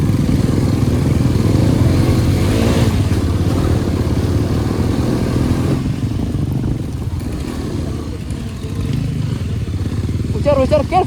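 A motorcycle engine runs steadily throughout while being ridden, a loud continuous drone with slight revving changes, as people talk over it.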